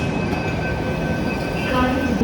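A Mumbai local train pulls into a station with a loud, steady rumble of wheels and rolling carriages, thin metallic squeal tones ringing above, close and continuous, faint chatter underneath.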